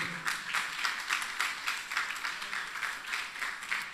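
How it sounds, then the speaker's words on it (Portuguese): Church congregation applauding in steady, rapid clapping, moderately loud and fairly close, with a faint voice or two underneath. "A igreja aplauda bem forte ao Senhor."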